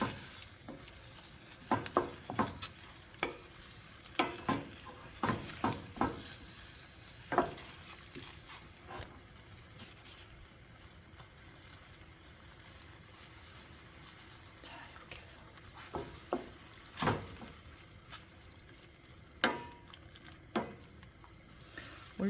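Beef and frozen mixed vegetables fry in a pan with seasoning sauce, a low, steady sizzle broken by frequent scraping and clinking stirs, quiet and close throughout.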